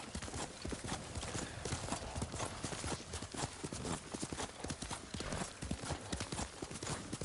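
In the samurai game Ghost of Tsushima, a horse gallops with fast, even hoofbeats pounding close and unbroken, and a brief neigh may rise over the rhythm.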